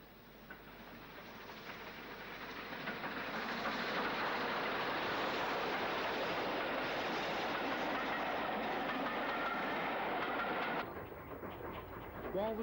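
A Southern Region steam locomotive on a rail tour passes at speed in the mid-forties, a loud, sustained rumble and rush of wheels and train that holds steady before dropping away abruptly near the end.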